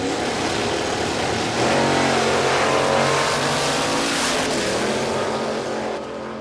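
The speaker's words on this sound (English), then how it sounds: "Supercharged altered." A supercharged altered drag racing car at Warwick Dragway roars at full throttle, a loud, dense, sustained engine howl that swells and holds, then eases slightly near the end.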